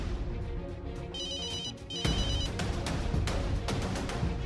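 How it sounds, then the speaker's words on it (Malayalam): A mobile phone rings from inside a bag, a repeating electronic tone that comes in clearly midway over a busy background of music-like sound. "പുറപ്പെടാമെന്ന് കരുതിയ സമയത്താണ് ബാഗിലിരുന്ന് ഫോൺ റിങ് ചെയ്തത്"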